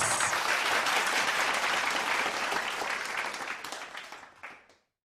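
Dense audience applause at a partners' appreciation ceremony greets a company president, a full, close wash of clapping that holds steady and then thins and fades out near the end.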